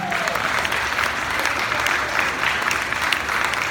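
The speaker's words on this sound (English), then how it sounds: "Can we give them all a big round of applause?" Steady applause from an event crowd gathered for a 2019 Lights for Liberty vigil, clapping densely and evenly throughout at moderate loudness with no talk over it.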